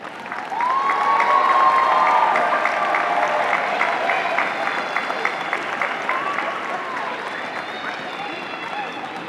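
Graduates and families applauding at a college commencement ceremony for the class of 2024, a large crowd's sustained, dense applause with cheering and whistles, loud at first and gradually easing, with voices mixed into the crowd.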